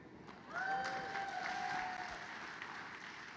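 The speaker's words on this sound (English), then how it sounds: "those people who just clapped" An audience at a Calgary Expo 2014 spotlight panel bursts into brief applause, a soft, distant patter of clapping lasting about two seconds with a faint whistle on top, then fading away.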